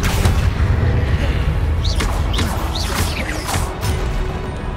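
Spell blasts in the video game Hogwarts Legacy, a loud rumbling barrage of booms and crashes with sharp whooshing, sweeping magic effects layered on top, dense and continuous, alone without talk.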